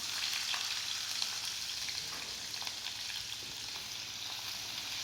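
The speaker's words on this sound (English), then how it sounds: "When we are cooking the onions" Sliced onions sizzle steadily in hot oil with a few peppercorns, a close, even hiss with faint crackles and occasional stirring taps, no voices.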